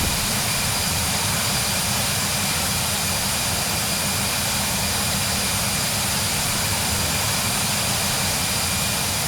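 A passenger airplane's engines roar during flight to Lisbon, a loud, steady, unbroken cabin drone with a broad rushing hiss and low rumble that never changes across the whole stretch, with no voices over it.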